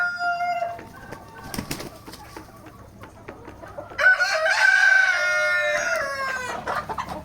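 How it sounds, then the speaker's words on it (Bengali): Multi-coloured tiger breed hens and roosters on a farm, steady clucking and chatter from many birds, then a loud close rooster crow rising over the flock in the second half. "দেখেন মুরগিগুলা কত চঞ্চল"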